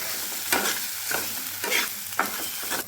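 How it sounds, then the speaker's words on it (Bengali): Spices, turmeric and garam masala frying with ginger-garlic-chili paste in a pan, a continuous sizzle broken by a few slow scraping stirs of a spatula, close and without talk. "এখন সব কিছু একটু ভালো মতন কষিয়ে নেব।"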